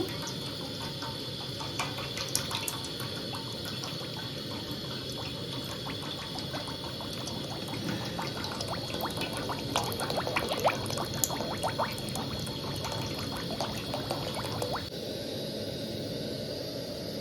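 Liquid is poured for frying mirchi bajji, a steady, continuous splashing pour with light crackle that runs for a long stretch before cutting off near the end.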